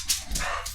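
A dog named Cosmo gives a short, sharp bark and a whimpering yip, close by and brief in an indoor room.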